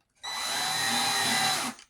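A power drill whirs steadily at high speed for about a second and a half, drilling into a wood base for HO scale model train turnout track, starting and stopping abruptly, close by.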